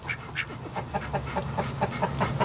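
Ducks in a pen quack repeatedly in an irregular, overlapping chorus, close by and fairly loud, with no voices.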